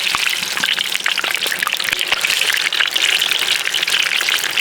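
Onion frying in hot oil in a kazan for an Uzbek rabbit kazan-kabob gives a dense, continuous crackle and sizzle with scattered pops, close and steady throughout.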